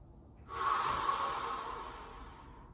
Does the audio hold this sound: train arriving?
no